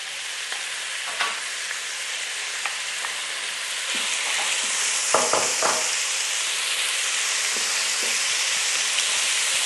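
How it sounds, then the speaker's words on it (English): Beef browns in peanut oil in a Crockpot set to sear, a steady close sizzle and crackle with a few brief scraping stirs, and no talking. "I'm just going to put some little bit of oil in. This is peanut oil because it's got a higher smoke point. And we're just going to brown the meat off."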